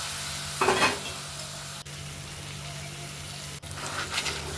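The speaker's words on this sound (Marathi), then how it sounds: "नंतर त्याच्यामध्ये भेंड्या घालायच्या" Okra is dropped into a frying pan and stirred, giving a soft steady sizzle with two bursts of scraping, spatula-on-pan stirring, one near the start and one near the end, and no one talking.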